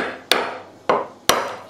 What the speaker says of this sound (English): let me see if I can hit it with a hammer and not damage